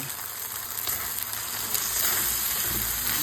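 Corn and vegetables sautéing in a pan with a steady, close, fairly loud sizzle and frying crackle, seasoned with pepper and salt, continuous throughout without any talking.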